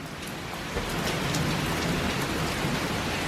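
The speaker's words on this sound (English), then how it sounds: "Kristian's birthday and we have a little thunderstorm here" Steady rain pours down during a small evening thunderstorm, a dense continuous hiss with scattered louder drops, close by and unchanging, with no voices.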